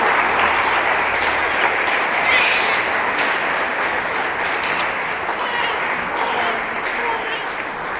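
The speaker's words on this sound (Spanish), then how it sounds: "Entonces le damos un aplauso grandote de felicitaciones." A church congregation gives a big, sustained round of applause to congratulate a family, with loud, dense clapping throughout and some voices mixed in.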